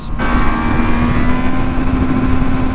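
A 2021 Triumph Trident 660 motorcycle engine revs hard and close throughout, a steady loud mid-pitched drone with a rising whine as it climbs through the revs.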